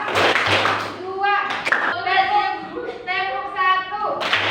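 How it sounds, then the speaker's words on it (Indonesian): Schoolchildren clap in unison during a classroom clap-count focus game, quick bursts of claps at the start and end with a teacher and pupils calling out in between. "Tepuk satu. Tepuk dua."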